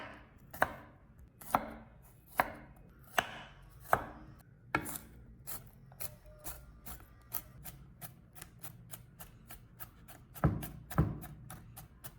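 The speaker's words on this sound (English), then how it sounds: "Add a few cloves of garlic and chop finely." A knife finely chopping garlic cloves on a board, starting with slower, heavier chops and speeding into a rapid even run of crisp taps, close and unaccompanied by speech.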